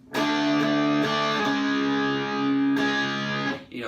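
Distorted electric guitar chords from the chorus of a song ring out loud and thick, strummed in a few sustained hits with brief gaps between them.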